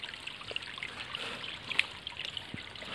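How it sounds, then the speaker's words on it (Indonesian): Faint river water trickles and babbles steadily along a shallow summer stream, with small splashes scattered through a soft continuous wash and no voices. "kita berjalan menyusuri sungai"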